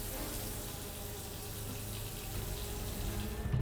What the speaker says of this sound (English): the bag needs to be sealed and doused in hot running water for 15 minutes.